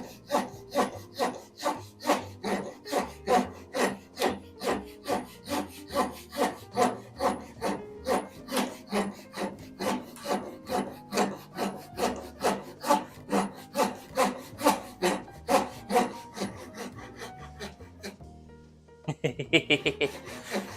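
A hand saw cuts a kerf in wood for a garage garden platform with steady, evenly spaced rasping strokes, loud and close, about two strokes a second, before stopping near the end as a short, brief sound follows.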